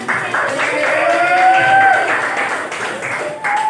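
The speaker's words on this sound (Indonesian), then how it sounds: "tepuk tangan buat kalian semua" A classroom of students applauding at the end of a Japanese language lesson, dense steady clapping close by with a voice speaking over it.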